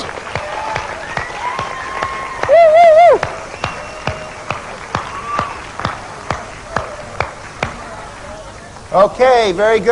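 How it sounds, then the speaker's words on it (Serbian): A group claps for a participant in a rhythmic, evenly spaced series of sharp claps, with a couple of loud voiced cheers or calls breaking in partway through and near the end. "Ovdje, dajte mu jedan aplauz."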